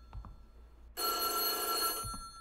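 A telephone rings inside the Korean horror video game White Day, set in a school at night: one loud, sustained electronic bell burst of about a second, with soft footsteps or thumps before and after.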